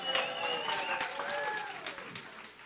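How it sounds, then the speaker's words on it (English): Crowd applause at the Minds Fest 2023 event, a short burst of clapping with cheers and voices mixed in, moderately loud and fairly steady. "Give yourself a round of applause for coming out to support free speech"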